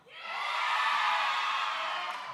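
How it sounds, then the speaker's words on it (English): A studio audience cheers on cue, whoops and yells swelling quickly into a sustained crowd roar that holds steady before easing slightly at the end. "Cheer now."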